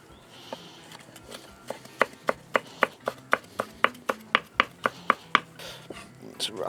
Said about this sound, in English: Just going to chop up some basil